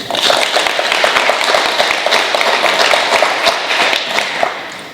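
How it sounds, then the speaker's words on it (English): A round of applause at a school organizational awards day for the female nominees, loud, close and steady, with individual claps standing out sharply before it tapers off at the end. "Let's have a nice round of applause for our female nominees."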